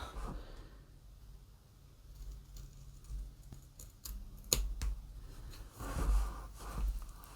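Scissors cut fabric for a fisherman's basket cover, faint close snips and soft rustles scattered unevenly, with one sharper click midway.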